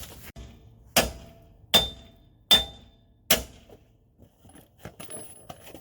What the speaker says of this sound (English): Now you gotta take a hammer and just tap it free.